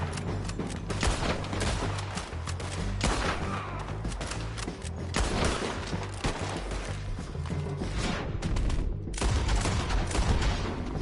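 Dense rapid gunfire from a shootout in Red Dead Redemption 2, loud overlapping volleys and bursts that fill the whole stretch with little pause.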